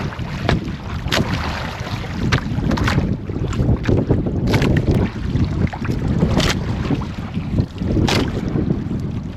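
Strong wind roars continuously with heavy buffeting against the microphone, mixed with the rumble of a boat on open water.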